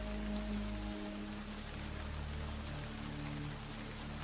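Steady heavy rain hissing continuously, with a low hum underneath and no voices.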